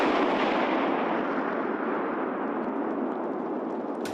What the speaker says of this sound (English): 3 kilograms of explosive blow up.